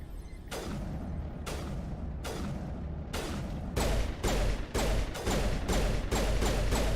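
Explosions and gunfire from the Mass Effect 3 video game come as a series of sharp, booming bursts, sparse at first and then quickening into rapid repeated blasts.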